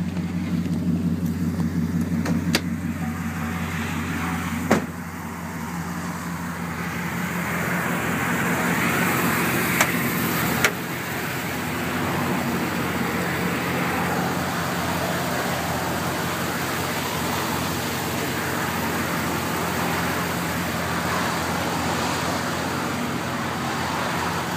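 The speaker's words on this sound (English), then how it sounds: "pop the hood open so you can take a look at the motor while it's running." A 2010 Chevrolet Silverado pickup's engine idles with the hood open, a steady low rumble holding evenly throughout with a couple of brief clicks and knocks early on.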